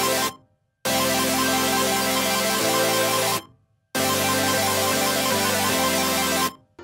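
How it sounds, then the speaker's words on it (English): Synthesized future bass drop chords, wide and sidechained to a kick, heard as two loud, sustained bursts of dense chords that swell in, shift harmony, and cut off with short silences between. "All in all, the drop chord sounds like this."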